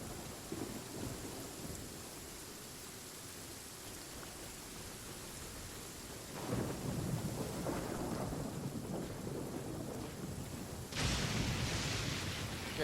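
Steady rainfall hisses throughout Genshin Impact's stormy mountain climb, joined by rolling thunder that swells midway and cracks again with a bright, loud burst near the end.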